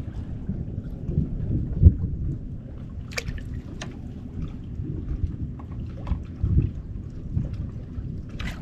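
Thunder rumbles low and steady through falling rain around a fishing boat, a muffled continuous roll with a few swelling peaks and scattered faint knocks, with no voices.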